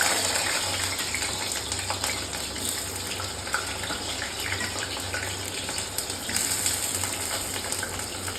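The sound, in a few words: potatoes frying in a pan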